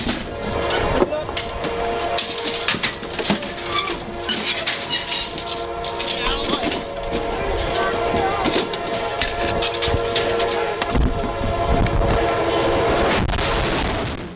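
A train approaches with its horn blaring in long repeated blasts, loud and close, over the rising roar and rattle of the passing rail cars.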